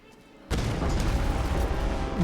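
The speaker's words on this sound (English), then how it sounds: "Where are the explosions coming from now?" Explosions in the video game Tomb Raider 2013: a sudden loud booming blast followed by sustained rumbling, crackling debris and roaring noise.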